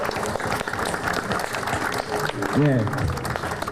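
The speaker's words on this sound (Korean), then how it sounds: "박수 한번 부탁드리겠습니다." Dense applause from a crowd at a journal launch ceremony, steady and loud throughout, with a voice speaking briefly over the clapping near the end.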